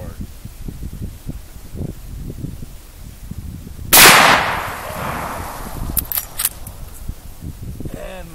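A single sharp, loud crack from a Marlin 1894 lever-action rifle in .44 Magnum fired outdoors, decaying quickly, with people talking before and after the shot.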